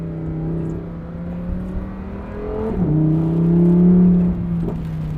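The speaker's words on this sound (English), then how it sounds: "still get that lovely V10 soundtrack" A Lamborghini Huracan's V10 engine drones steadily from inside the car, dips in a quick gear shift, then revs up louder before easing back, clear and close.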